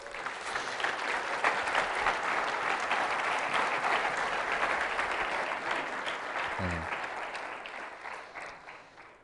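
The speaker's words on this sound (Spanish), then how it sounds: "Dale palmas fuerte." A church congregation claps loudly and steadily during a sermon, a broad sustained wash of applause that slowly fades toward the end.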